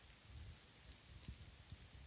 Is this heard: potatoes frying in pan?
no